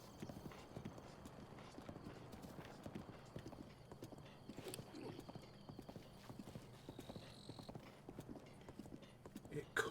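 Horse hooves gallop in Breath of the Wild, a fast steady clip-clop rhythm running the whole way through at low volume, with faint game ambience behind.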